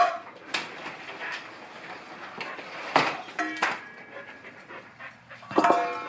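Two dogs panting while waiting for kibble in a home, close rapid breathy panting alongside clattering of bowls and rustling, with a few sharper knocks, no talk.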